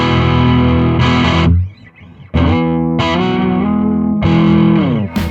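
A 1972 Gibson ES-335 electric guitar plays through a Tex Bernie amp with high gain, loud sustained distorted chords ringing out, broken by one short pause, then struck again.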